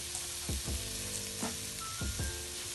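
Yellow onions fry in oil in a pan with a constant hiss, while a few soft stirring scrapes and clinks come through close by.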